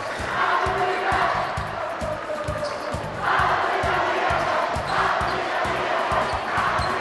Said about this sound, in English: You can hear the Willard crowd celebrating in the background